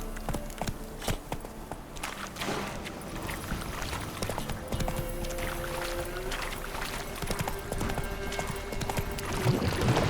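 Roach, Geralt's horse in The Witcher 3: Wild Hunt on PS5, clip-clops along at a steady gait through misty marshland, hoofbeats mid-distance under a dense bed of ambient game sound and music with no talking.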